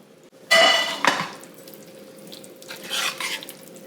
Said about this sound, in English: And then our ground beef is going to go in.